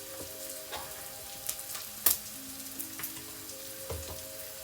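Onions fry in a pan with a quiet, steady sizzle, broken by soft crackles and small pops, close by with no talking.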